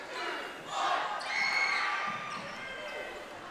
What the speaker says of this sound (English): Crowd getting into it, 20 seconds left, 63 all.